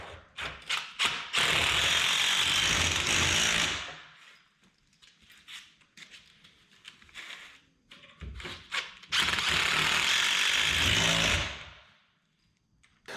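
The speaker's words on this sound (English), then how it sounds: "I'm going to take some of these 1/4-inch Tapcon screws that are made just for concrete and cinch this down where it can't go anywhere" Tapcon 1/4-inch concrete screws are driven into a kitchen base cabinet, with two long, loud bursts of powered driving separated by quieter thumps and handling noise.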